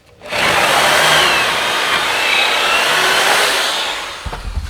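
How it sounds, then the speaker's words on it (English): A power drill runs continuously through a clamped 2x4 in a single steady whir lasting several seconds, close and loud, then winds down. "and then I'll drill through."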